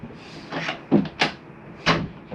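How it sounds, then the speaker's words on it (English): A closet door inside a 2019 Grand Design Reflection 315RLTS RV is pushed shut, giving a few close wooden knocks and clicks as the panels meet and latch, with no talking. "I'm going to close that closet up"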